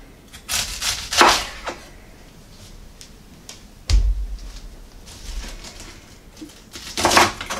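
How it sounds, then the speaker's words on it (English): A knife dices cabbage on a cutting board in a kitchen, giving scattered crisp chops and thuds in irregular bursts with quiet gaps, close and moderately loud. "You want to dice up some of your cabbage."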